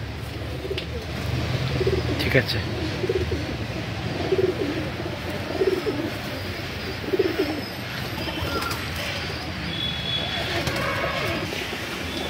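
Madrasi pigeons of an old generation, including a female, give low, repeated coos in steady bursts close by, with a brief spoken remark amid the ongoing background noise.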